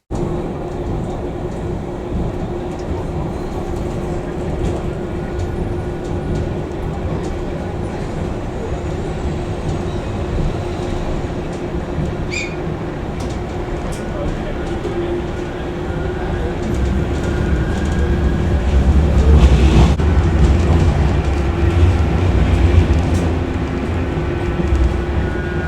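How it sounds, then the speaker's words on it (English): A Manchester Metrolink tram rides from Piccadilly to Victoria, giving a steady interior rumble and hum throughout, with a brief high squeal partway and the rumble swelling louder near the end. "catch a tram from Piccadilly to Victoria"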